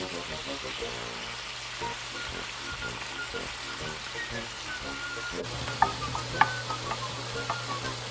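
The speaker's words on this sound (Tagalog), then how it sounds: "We're gonna stir fry like 1 minute" Beef sizzling and frying in a pan while being stirred, a steady hiss with scattered crackles and a few sharper pops toward the end, with faint voices in the background.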